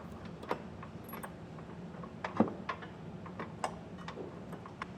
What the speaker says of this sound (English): and I am using a 3/4 inch wrench.